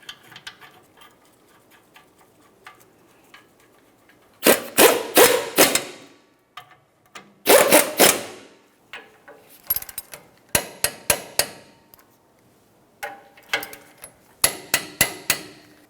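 Bolts threaded in and tightened on a brake bracket of a 1994-2002 Ram 2500 during a rear brake job: bursts of rapid metallic ratcheting, close and loud, separated by quiet pauses and small clicks, with no talking.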